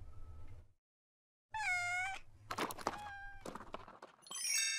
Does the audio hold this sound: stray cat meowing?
yes